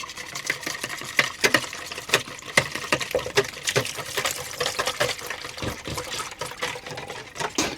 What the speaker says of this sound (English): just whisk it together with the egg in here